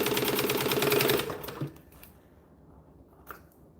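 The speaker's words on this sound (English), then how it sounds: "I can pretty much just bunch it up and chain stitch" A sewing machine chain stitches the lining of a bag in a fast, close, rattling run for about a second, then stops, leaving only faint handling sounds.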